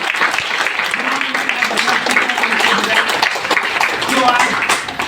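Audience applause welcoming a guest speaker at a distributor training session in Patna, a steady dense wash of clapping that continues throughout, with a voice speaking over it.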